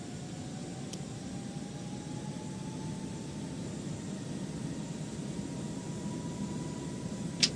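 An airliner takes off in the FSX flight simulator game, its engines a steady, soft broadband roar with a faint whine slowly rising in pitch, continuous and unaccompanied by speech.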